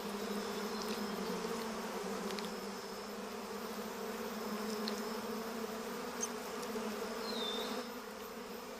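Honey bees buzz steadily around flowers as they gather nectar, a faint, continuous drone with occasional brief closer passes and no voices.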